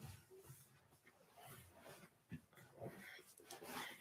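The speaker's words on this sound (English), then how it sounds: "Yes, and that's my dog" A pet dog at home makes soft whimpering, breathy sounds and a few short sharp noises, close to the microphone over a low indoor background.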